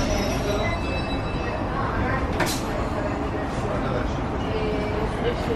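Berlin metro train running, a steady loud rumble of wheels and carriage noise throughout with a brief sharp squeal partway through; people talk over it.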